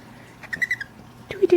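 Baby birds give thin, high chirps in a short run of three or four quick notes, then a brief squeaky call, close and moderately loud.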